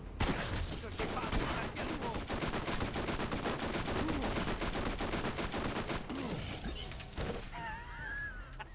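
Dense, continuous gunfire in the video game Borderlands, with rapid overlapping shots and bursts through most of the stretch, plus a few mechanical clicks near the end and a voice heard briefly.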